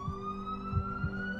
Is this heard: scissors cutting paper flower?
no